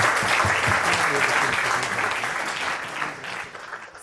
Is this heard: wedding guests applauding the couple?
yes